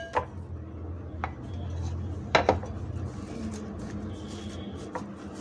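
Ground chicken mixture for chicken balls being scraped out into a bowl, with a few sharp clinks and knocks of a utensil against metal over a low background hum.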